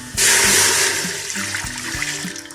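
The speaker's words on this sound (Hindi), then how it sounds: "इसके अंदर हम डालेंगे 2 गिलास पानी।" Water poured into a pressure cooker as mutton and green beans are prepared, a loud steady gush that starts abruptly and keeps streaming for about two seconds, with a few low knocks underneath.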